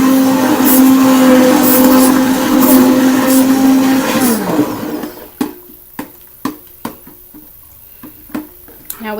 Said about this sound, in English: this is my second stick blender